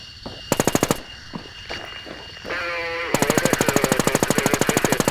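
TAR-21 assault rifle in a video game firing two rapid full-auto bursts, a short one early and a longer sustained one at the end, loud and close with sharp regular shots.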